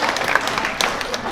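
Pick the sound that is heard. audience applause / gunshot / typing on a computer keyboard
audience applause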